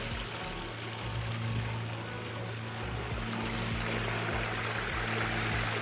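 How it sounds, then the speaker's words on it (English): Water trickles and splashes continuously from a garden water feature beside a seating area and playground at a Colorado property, a steady close flow with a low rumble underneath. "The water feature is quite lovely."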